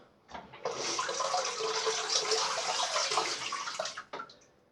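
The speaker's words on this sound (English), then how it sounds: "There we are, quick rinse." Tap water runs as a Gillette razor is rinsed under it, a steady close hiss of flowing water lasting a few seconds and then cutting off abruptly, with no talking.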